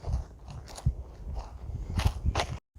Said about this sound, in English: Ooh, we love the crunchy leaves.